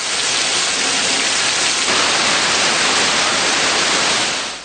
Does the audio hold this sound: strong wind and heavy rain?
yes